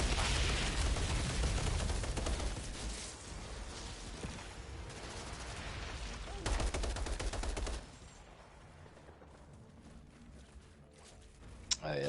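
Rapid automatic gunfire from an online shooter game rattles in long dense bursts, loud and continuous, then drops away to quieter game sounds with a few scattered shots near the end.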